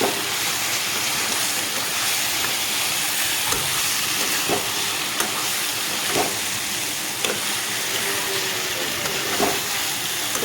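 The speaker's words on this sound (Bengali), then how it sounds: "শাকের পাতাগুলো একটু ভাজা ভাজা করে" Greens fry in a pan of oil and spiced masala for a potol paneer dolma, a pointed gourd and paneer curry, giving a steady, loud, close sizzling hiss with scattered small crackles and no talking.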